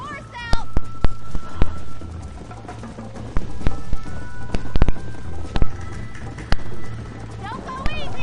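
Hooves of a galloping horse in Red Dead Redemption beat in quick, uneven clusters, loud and close, with wind and ambient game sound underneath, while a character's voice talks over parts of it.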